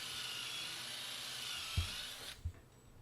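A high-pitched drill whines steadily for about two seconds, boring screw holes for mounting a boat's breast hook, then stops, followed by a couple of dull knocks.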